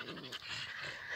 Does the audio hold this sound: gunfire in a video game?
no